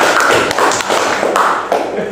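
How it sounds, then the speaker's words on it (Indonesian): A small group claps briefly for the Radar Madura newspaper during a students' journalism visit, a few loud, uneven close-up claps and taps in quick succession. "Tepuk tangan dulu untuk Radar Madura"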